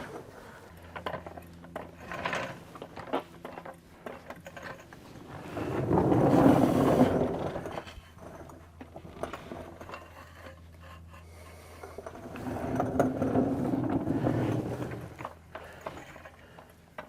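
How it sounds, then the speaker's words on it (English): Floor jack pumped by hand while lifting a tired 240 engine during an engine swap, with two bursts of ratcheting mechanical clicking and creaking close by, separated by quieter shop noise. "We probably should just get the floor jack and be done with it."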